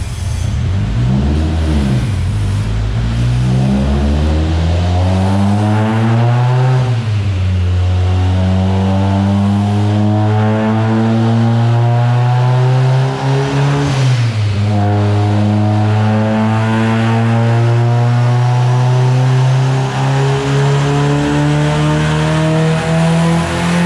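Turbocharged car engine fitted with a Garrett G42-1200 turbo revving hard on a dyno, loud and continuous, with three rising sweeps as the revs climb, dip and climb again, and no talking.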